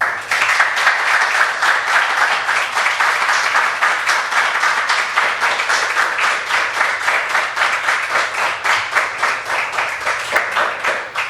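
Sustained audience applause at the close of a lecture, many hands clapping loud and dense with a steady rhythmic pulse throughout, no talk over it.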